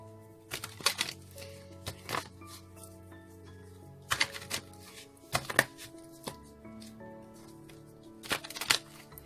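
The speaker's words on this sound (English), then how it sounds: "One more shuffle, they say." Cards are shuffled in several brisk riffling bursts, crisp fluttering slaps separated by pauses, close by over a quiet background.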